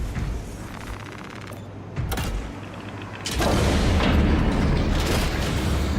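Grenade blasts in a Space Marines-style campaign video game ring out as heavy booms, a sharp burst near two seconds and a louder sustained rumble from about three seconds on, with no speech.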